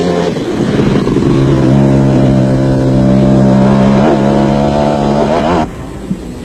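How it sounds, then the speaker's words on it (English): A KTM off-road race motorcycle from a 1991 desert off-road race in South Africa roars loudly and steadily at high revs, its engine note holding strong before cutting away near the end. "Jeremy Davies rode standing up to relieve the weight at the rear of the Truck Africa KTM"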